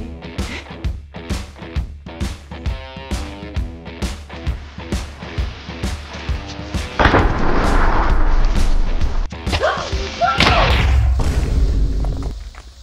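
A creeper explodes in a hardcore Minecraft survival game on a dangerous mod: a sudden loud blast with a long, rumbling burst of noise follows a run of steady rhythmic in-game thumps, then a second surge before fading.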